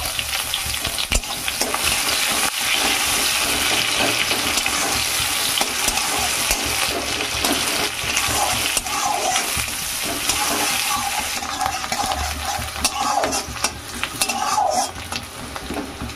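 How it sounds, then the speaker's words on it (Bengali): Chopped onion, green chili and garlic frying in mustard oil for a Bengali ridge gourd dish, a steady loud sizzle throughout with occasional stirring scrapes against the pan, no voices. "পেঁয়াজ মরিচগুলো একটু ভেজে নিয়েছি, রসুন।"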